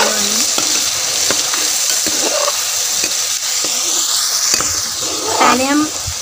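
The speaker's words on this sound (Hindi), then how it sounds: "अब इसको भूनेंगे।" Pounded spice ingredients sizzle loudly in a hot pan while a spoon scrapes and taps against it in irregular strokes. A voice is briefly heard near the end.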